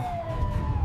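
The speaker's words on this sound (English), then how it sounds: "I hear sirens." A police siren wails briefly at moderate distance, a steady tone over low background rumble.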